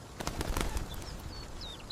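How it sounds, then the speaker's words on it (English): Soft fluttering of bird wings passing close by over a river, with a few faint chirps drifting in toward the end over a quiet outdoor background. "I can see many birds. They're flying over the river."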